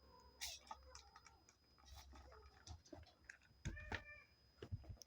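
Indoors in a bedroom, a cat gives faint meows amid quiet clicks and soft movement noises, with a low voice murmuring at times.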